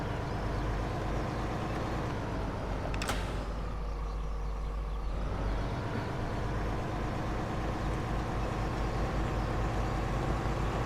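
Steady low engine drone of a truck driving in Pure Farming 2018, with a sharp hiss or click partway through and a continuous rumble throughout, no voices.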